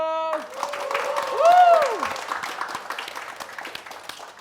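A studio audience on a talk show claps for a band, with a whoop from one voice over the clapping, which is moderately loud and steady before fading.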